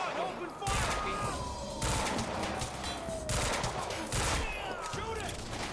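Heavy gunfire crackles in a Quantum Break firefight, with loud overlapping bursts of rapid shots that come in waves separated by brief lulls.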